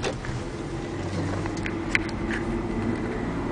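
2005 Honda Accord Hybrid pulling away from a stop: a quiet, steady low engine hum and road noise from inside the car, smooth and even, with a small click partway through and no talking.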